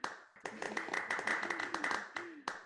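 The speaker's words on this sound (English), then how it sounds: "let's give them all a round of applause as well" A small audience claps for family members of scholarship winners, with distinct individual hand claps at close range and a voice speaking over them throughout.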